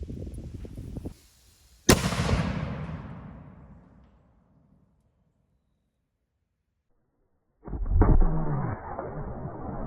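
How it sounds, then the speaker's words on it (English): A cannon fires bar shot at the rigging of a pirate ship. A single loud, close boom rings out and decays over about two seconds, followed by silence and then a burst of rushing noise. "let's load this up and see if we can hit it with this bar shot"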